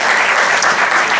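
An audience applauds rap performers Dhanji and Rasla with steady, dense clapping that fills the whole moment at close range, with no voices breaking through.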